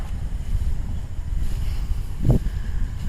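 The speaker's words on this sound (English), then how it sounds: "Oh, some wind." Wind gusts rumble across the microphone in an early morning park in Tokyo. The rush is low and steady, with one sharper gust near the end.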